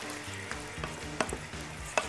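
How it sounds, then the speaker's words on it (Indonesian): Dried chilies frying in a pan for a spicy potato dish, a steady low sizzle broken by sharp clicks and scrapes of stirring, close and alone with no voices. "lalu kita masukkan cabai keringnya ya"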